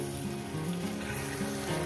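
Raw rohu fish pieces frying in a pan over a medium flame, a steady close sizzle and crackle of oil with no pauses and no talking.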